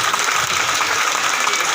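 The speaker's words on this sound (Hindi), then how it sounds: "तो एक बार आयोजनकर्ताओं के लिए जोरदार ताली बजाएं" Loud, continuous applause fills the space as a devotional gathering's audience claps together for the event organizers, a dense, steady wash of hands with no pauses.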